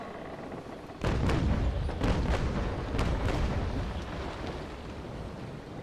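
Ship cannons fire a broadside in the naval battle game Naval Action: a run of heavy overlapping booms starts suddenly and rumbles on in several close thumps before easing into a lingering roar.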